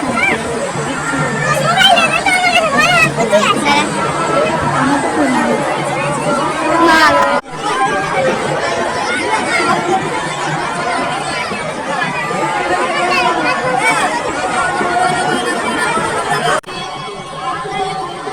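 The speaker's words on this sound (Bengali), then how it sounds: "আর এই হলো আমাদের মানিকচক ঘাটের ভিড়" Dense crowd chatter fills a busy river ghat at Manikchak during a Mahashivratri gathering, many overlapping voices forming a steady loud babble throughout, with a brief dip around the middle and a thinner stretch near the end.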